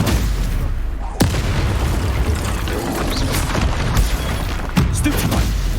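Spell blasts from the Hogwarts Legacy video game boom and crack in quick succession, with sharp impacts over a dense rumbling background and a voice speaking at times.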